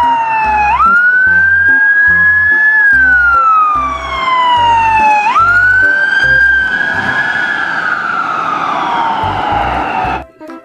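A toy police ambulance car's wailing siren sweeps up and down in long cycles, loud and close, with a thin electronic tone.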